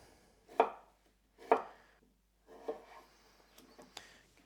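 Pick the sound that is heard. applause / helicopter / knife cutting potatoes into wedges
knife cutting potatoes into wedges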